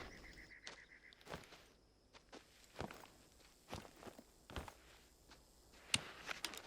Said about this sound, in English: I hear your little pitter-patter of footsteps.